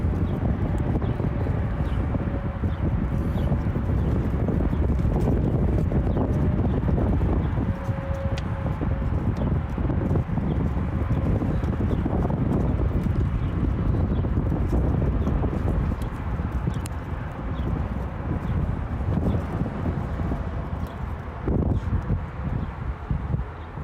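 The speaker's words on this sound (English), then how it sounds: "wind came out of nowhere" Wind rushes across the microphone outdoors in a steady broadband roar. The gusts stay strong for the whole stretch and ease slightly toward the end.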